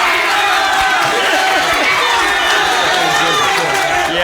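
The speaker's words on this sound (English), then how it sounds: "They're really cheering for all the band members." An audience cheering and shouting for Arkansas Army National Guard band members, a dense, loud wall of voices and whoops that holds steady throughout with no pause.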